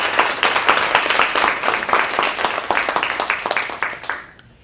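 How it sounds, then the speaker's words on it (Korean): Seminar audience in a Korean medical lecture hall breaks into sustained, dense applause of many hands clapping, steady and fairly loud, then tapering off near the end. "박수로 맞아주시기 바랍니다"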